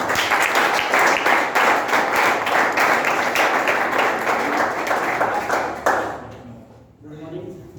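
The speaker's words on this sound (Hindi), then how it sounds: "जोरदार तालियां मिस्टर जयराम जी।" Loud, dense audience clapping at a company marketing-plan presentation, sustained for about six seconds and then cutting off, followed by brief sounds of a voice.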